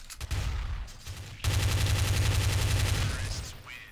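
Rapid automatic gunfire in the video game Counter-Strike: Source, a dense sustained burst of shots, with a few scattered shots before it.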